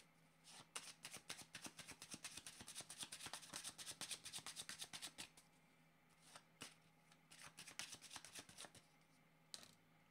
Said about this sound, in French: Le temps de prendre le jeu de cartes.